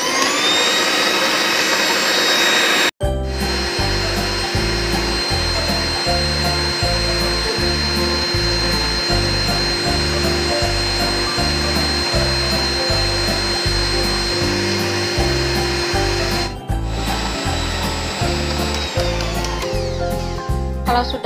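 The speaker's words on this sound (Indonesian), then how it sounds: "Mixer dengan kecepatan tinggi." An electric mixer beats steamed batik sponge cake batter at high speed, a loud continuous whirring hum with a rhythmic pulsing beat that runs close up for about twenty seconds after a sharp start.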